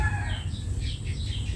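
Chickens being raised for eggs cluck softly over a steady low rumble, with faint bird calls scattered through the short stretch and no voices.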